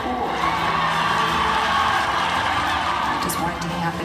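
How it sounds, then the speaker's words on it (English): Basketball game crowd cheering and shouting loudly throughout, a dense, continuous roar with whoops and children's yells and no pause. "The crowd was going nuts the entire game."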